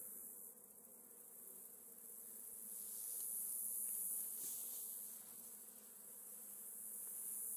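Honeybees hum steadily around an open, mite-ridden hive of foundationless frames in mid-October, a continuous faint buzzing drone that swells slightly midway with no talking.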